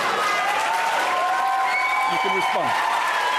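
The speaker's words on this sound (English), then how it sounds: "I'm glad that the audience is cheering things I've written" An audience breaks into loud, sustained applause with some cheering, a dense wash of clapping that continues under a brief spoken remark.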